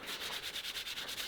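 Rapid rhythmic rasping of engine valves being lapped against their seats, a dense back-and-forth grinding with about ten even strokes per second, close and steady.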